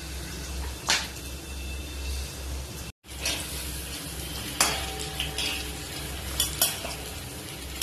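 A metal spatula scrapes and stirs in a new wok with burnt residue stuck to it while food fries, giving repeated scratchy strokes over a steady sizzle, close and moderately loud, with a brief dropout near the middle.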